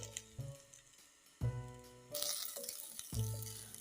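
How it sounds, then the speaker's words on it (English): Potatoes frying with cumin seeds and onions in a pot on medium heat, a bright sizzle bursting in about halfway through and continuing under background music. "Fry your potatoes together with the cumin seeds and the onions for around 30 to 40 seconds on medium heat"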